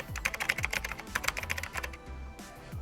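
Rapid, light clicks of typing on a computer keyboard, close and fairly soft, in irregular bursts that taper off toward the end, with no voices.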